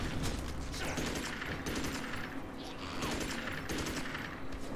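Rapid gunfire from ranged weapons in the Magicka video game sounds as a dense, continuous crackle of shots, loud and sustained, with no pause across the moment.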